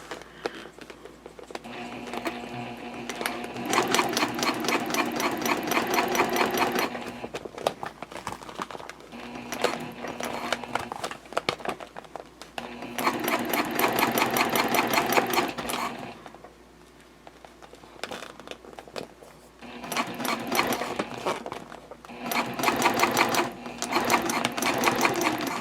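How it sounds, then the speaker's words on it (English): A sewing machine stitches across the binding of a jelly vinyl pouch in several rapid, rattling bursts of a few seconds each, separated by short pauses, loud and close with no talk over it. "I'm going to sew across that binding 1/8 of an inch away from the edge."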